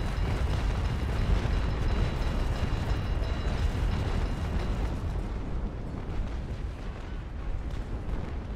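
Cannon fire from the naval game Naval Action, a dense, continuous rumbling barrage of broadside shots blending into a loud low roar that eases slightly toward the end; no talking.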